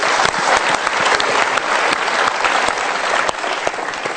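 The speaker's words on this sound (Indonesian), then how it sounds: "Kita berikan tepuk tangan untuk mereka." A studio audience at a televised motivational talk show claps loudly and continuously for a few seconds, dense overlapping applause without speech.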